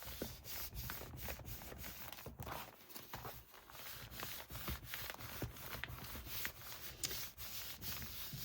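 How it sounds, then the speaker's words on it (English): Closed junk journal pages are rubbed by hand to press glued binding down, giving a steady run of soft, close dry scrubbing strokes in a quick repeating rhythm with no talk. "So then I close it and I rub it so that it gets good and glued."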